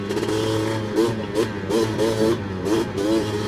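Honda 250R two-stroke engine revving hard with a freshly repacked exhaust pipe, a loud close buzzing drone that rises and falls in several quick blips over a steady idle.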